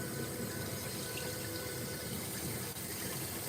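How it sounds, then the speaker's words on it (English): Water pours steadily into a pot of rice on the stove, a continuous close rushing flow with no speech. "Okay, so I'll have to maybe add a little more water."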